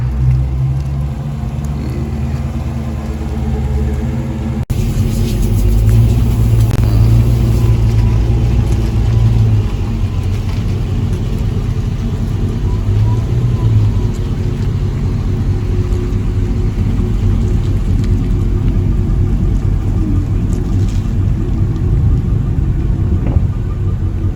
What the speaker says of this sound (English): they about to pull the Redeye into the shop